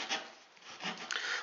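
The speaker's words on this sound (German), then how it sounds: "Dann würde ich mal sagen, sägen wir hier mal das Ganze ab." A small multitool saw cuts through an old elder branch outdoors, giving short rasping wooden strokes close by with no talking.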